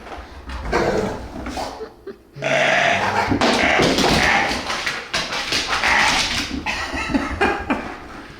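A dog close by whines and whimpers insistently, with a few sharp yips and barks breaking through a steady stretch of excited vocalizing.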